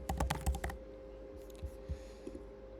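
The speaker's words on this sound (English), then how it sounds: "I'm going to go into Google and type in centimeter or pixel" A search typed into Google on a computer keyboard: a fast burst of close, crisp keystrokes, then a few scattered softer taps over a low steady hum.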